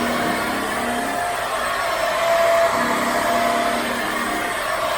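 A carpet scrubbing machine with a scrub bucket runs with a steady, loud whirring drone and a faint, fluctuating motor hum throughout.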